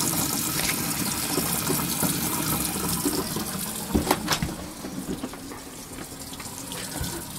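Steady water flow splashes from a faucet inside a Roadtrek camper van, a constant close hiss broken by a few louder clunks and spatters toward the end.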